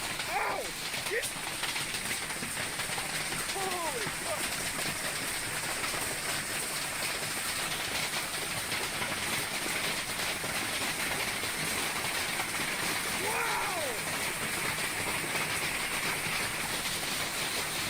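Golf-ball-sized hail pours down in a dense, steady roar across the whole stretch, with brief voices cutting through at moments.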